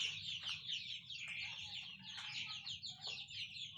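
A 32-day-old tiger-breed chick, thought to be a young rooster, clucks in quick, steady chirping bursts over a low background rumble, with no talking.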